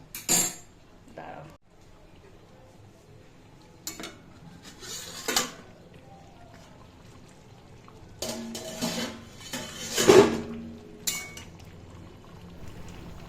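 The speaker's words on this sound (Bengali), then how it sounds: "এবার একটু নাড়াবো" A spoon stirs mutton curry in a pot on the stove, giving intermittent scrapes and clanks of metal against metal over a low background hiss, with brief bursts of louder clattering.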